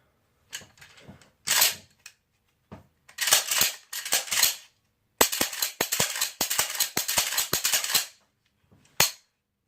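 Remington 870 shotgun with a freshly fitted barrel having its pump action cycled, sharp metallic clacks and slides in quick irregular bursts, close and loud with brief pauses between.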